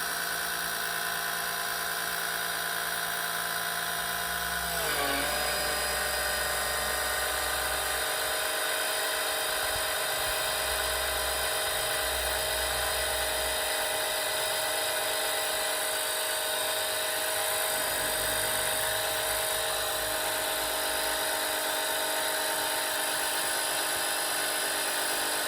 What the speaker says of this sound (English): It is actually pumping fluid.